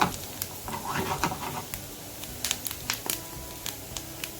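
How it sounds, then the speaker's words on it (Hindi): Ginger, cumin and nigella seeds sizzle softly in hot oil for a tadka for brown lentil dal, with scattered crackles and pops and a faint stirring sound, fairly quiet and close. "इसलिए मैं इसको अदरक का दे रही हूँ तड़का"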